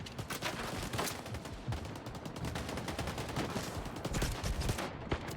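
Rapid automatic gunfire in STALKER 2, a steady stream of sharp shots and bursts at moderate distance, continuous across the span with little pause.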